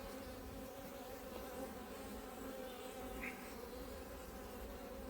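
Honey bees at an apiary hive give a dense, continuous buzz, steady and fairly faint, with no voices over it.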